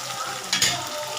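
Onions sautéing in a pan, a close continuous sizzle with a brief louder burst of hissing and scraping partway through, no voices.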